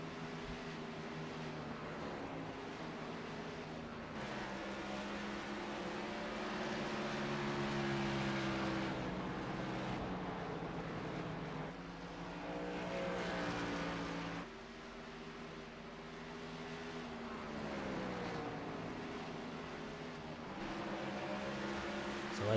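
Race trucks run laps at speed, a continuous engine roar with rising and falling pitch sweeps as the trucks pass. The sound stays fairly faint and distant, with brief dips between passes.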